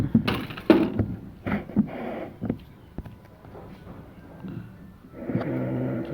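A side-camera mount on a bolt-action standard tank air rifle is tightened with a few close mechanical clicks and ratcheting scrapes, ending in a low steady hum.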